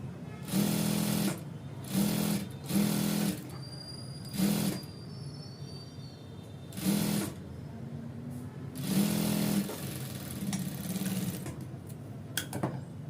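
A sewing machine stitches a half-inch seam on an ankle-length stretch pant, running in about six short bursts of rapid whirring separated by quiet pauses.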